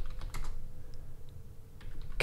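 Keystrokes on a computer keyboard while entering text in a Scratch quiz game project, a few scattered close clicks followed by a quick burst of typing at the end, with no talking.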